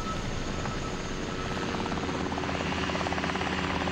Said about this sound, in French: À part les hélicoptères qui s'agitent autour des décombres